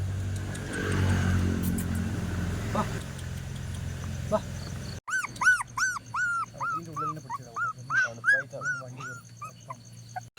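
Newborn puppies, only days old, abandoned tied in a sack by a roadside, whimper and cry in a rapid series of high, thin yelps, close by, after a stretch of background road noise.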